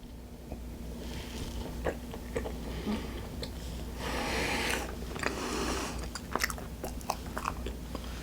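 Snack of injeolmi-flavoured cream bread from a Korean convenience store being bitten and chewed close up, with soft irregular crunches and sticky mouth sounds over a low steady hum, a denser burst of chewing midway.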